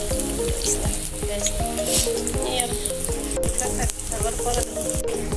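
Potato chops (aloo chop) and fritters fry in hot oil, a dense continuous sizzle with crackling bursts and occasional stirring, close up and steady throughout.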